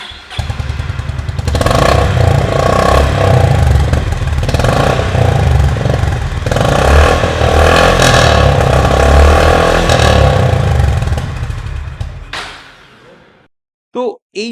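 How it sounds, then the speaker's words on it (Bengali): A Honda retro-styled motorcycle's engine runs loud and close for about twelve seconds, a steady throbbing note with slight swells of revving, then cuts off, followed by a brief voice. "এই বাইকটার সাউন্ডটা কেমন সেটা একবার আমরা শুনে নিন"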